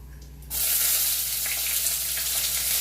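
Chopped onion, green chilli and ginger hit a hot pan and burst into a loud, steady sizzle that begins abruptly after a brief quiet moment and keeps crackling close up.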